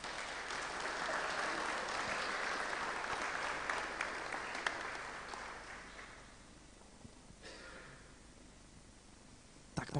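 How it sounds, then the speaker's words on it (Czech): Audience at a city annual awards ceremony in Hradec Králové applauds a sports committee chairman, loud sustained clapping that gradually thins and fades toward the end, with no voices. "Velký potlesk, prosím."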